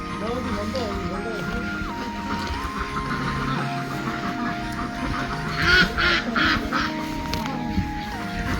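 Ducks at a duck farm in South Korea quack and honk at close range among busy background noise, with people talking over them and louder bursts near the middle.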